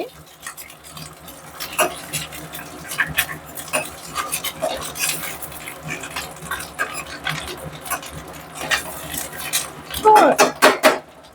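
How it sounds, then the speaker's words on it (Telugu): Cut boiled eggs frying in oil in a pan, a steady low sizzle under repeated clinks and scrapes of a utensil against the pan, with stirring getting busier toward the end. "ఇలా ఫోర్ ఎగ్స్ కట్ చేసుకొని ఆయిల్లో ఫ్రై చేసుకోవాలన్నమాట"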